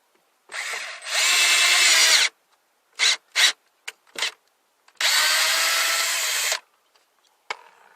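Power drill driving screws during a van build, two long close whirring runs with several short trigger bursts between them, no talking.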